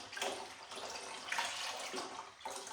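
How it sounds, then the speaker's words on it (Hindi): Full cream milk, about two kilograms, pours steadily into a pot of boiled rice, a continuous splashing, gurgling stream close by with slight surges in flow and no talk. "ये मेरे पास है 2 किलो दूध, तो इसको डालते हैं।"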